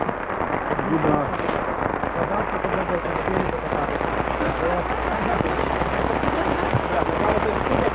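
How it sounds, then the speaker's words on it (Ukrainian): Steady rain patters and crackles densely across the whole stretch, with a brief spoken word near the start. "дощик прийшов, їдемо далі по треку"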